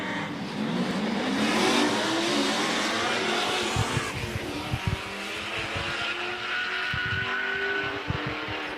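A supercharged V8 drag car engine roars and revs at a distance down the drag strip, with a tire squeal and a sustained mechanical drone that rises and falls.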